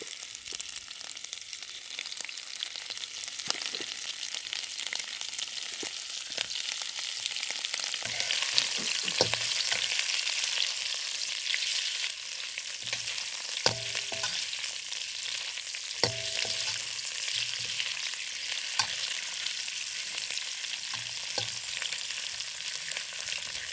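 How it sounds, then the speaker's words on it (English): Shrimp frying in a pan, a steady close hiss of hot oil with crackles and occasional clinks of a utensil turning them, continuous throughout with no talk. "now we're gonna put the shrimp in it"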